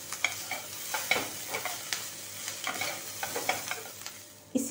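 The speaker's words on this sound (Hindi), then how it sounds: "इसे एक हल्का सा स्टर दे देते हैं हम" Veg Hakka noodles with vegetables are stirred in a hot pan, a soft sizzle running under repeated scraping and clacking strokes of the utensil, with a louder clatter at the end.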